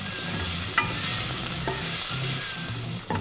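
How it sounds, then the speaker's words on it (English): Softening onions with a pinch of salt sizzle gently in a pan while a utensil stirs and scrapes through them, a steady close fry broken by a few sharper scrapes. "I'm not trying to fry the onions, I just want to make them transparent and soft."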